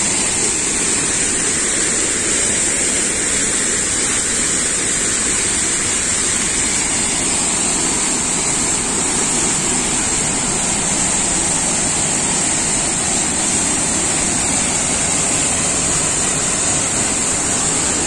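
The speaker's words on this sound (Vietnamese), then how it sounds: "Nước rất là nhiều mọi người ơi, dòng thác đổ to đùng." Hang Dơi waterfall in Kbang, Gia Lai, pours a heavy volume of water in a loud, steady, broadband roar that fills all eighteen seconds close by, with no voices and no break in the rush.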